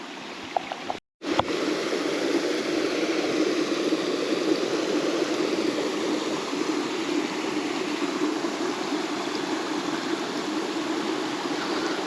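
Waterfall and stream in a forest, a steady, dense rush of falling and flowing water that holds level throughout after a brief cutout near the start, with no one speaking.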